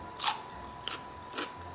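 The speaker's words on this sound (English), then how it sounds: "if you really do bite into an onion, like, it is spicy" A raw onion is bitten into, giving one sharp crunchy bite near the start followed by two softer crunching chews, close and quiet with no talk.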